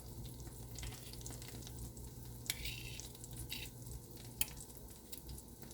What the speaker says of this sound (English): Now it looks like it's frying up good.